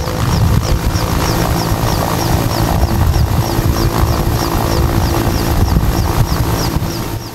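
A rescue helicopter hovers during a training drill in which a rescuer on climbing gear hangs from a rope fixed in the cabin, its loud, steady rotor and engine roar filling the whole clip up close with no talk.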